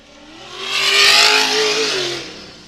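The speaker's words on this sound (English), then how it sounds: "So Chip's back on the throttle in that Tribe 16 2C IFS machine, running strong for Rufus Racing." A Tribe 16 2C IFS off-road race car from an Ultra 4 event roars past, its engine revving loud and close, swelling to a peak midway and then easing slightly as it carries on.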